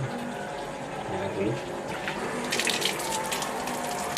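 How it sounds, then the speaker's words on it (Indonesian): Running tap water pours steadily while a keris blade is washed, a continuous broadband splashing rush with brighter spatters toward the end, as people talk briefly over it. "Ini Air mengalir."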